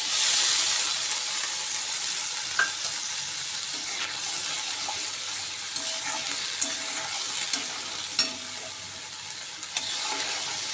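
Poppy seed paste (posto) with mustard, green chilli and nigella fries in a pan for a Bengali fish dish, a steady soft sizzle under scattered scraping clicks of a spoon stirring, close and fairly quiet throughout.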